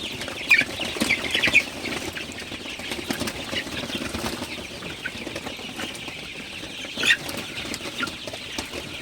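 Sonali super hybrid broiler chickens about 35 days old in a night-time coop, with scattered soft clucks and brief wing-flapping bursts over a steady low murmur of the flock, no voices.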